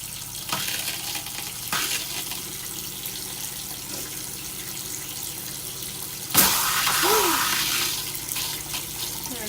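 Cold water runs from the bathroom sink tap of a Casita travel trailer being winterized, a steady hiss that grows louder when the flow is opened wider partway through.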